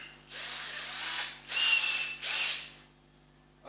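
A cordless drill fitted with a step drill bit whirs in three separate bursts of high-pitched spinning during a double-neck guitar build, close and fairly loud, with short pauses between runs and no talking.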